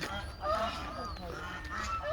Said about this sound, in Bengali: হাঁস আছে, হাঁস বলতে আছে